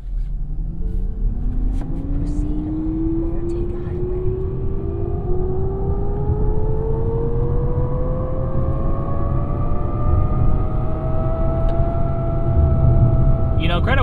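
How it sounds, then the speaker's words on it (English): A 2021 Toyota Mirai hydrogen fuel cell car accelerating at full throttle from about 10 mph on a winding road, its electric whine rising steadily in pitch over a constant loud road and wind rumble, heard from inside the cabin. "This is full throttle in the Mirai."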